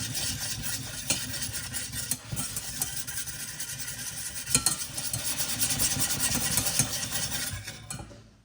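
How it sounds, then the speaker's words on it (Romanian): Scraping and stirring white chocolate into a hot mixture in a pot, a steady rough swishing with occasional clinks of the utensil, fading out at the end. "adăugăm ciocolata albă, amestecăm bine."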